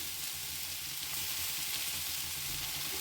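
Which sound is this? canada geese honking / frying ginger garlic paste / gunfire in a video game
frying ginger garlic paste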